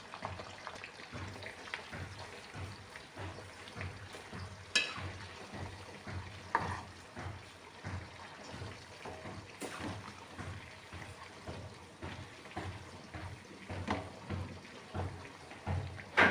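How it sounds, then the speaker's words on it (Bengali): Homemade hair oil with dried kesari leaves being stirred in a pan, a steady soft scraping rhythm over a continuous gentle sizzle, close and fairly quiet throughout. "এবার তেলটাকে ভালো করে নাড়বো।"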